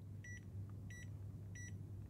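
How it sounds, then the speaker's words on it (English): A multimeter's weak buzzer gives three short, evenly spaced high beeps, quiet and thin over a low steady hum of background noise. "Once again, the buzzer is, I can barely hear it."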